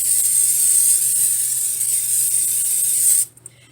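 Cooking oil spray hisses in one steady, loud, continuous burst for about three seconds over croutons being made with ranch seasoning, then cuts off abruptly into near silence.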